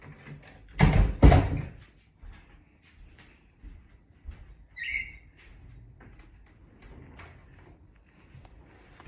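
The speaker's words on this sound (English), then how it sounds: "Just going to shut the door because all the air conditioning is blowing down the hall" An indoor door is pushed shut to keep air-conditioning from blowing down a hall, giving two loud, close thuds at the start, then quiet room sounds with a short high chirp.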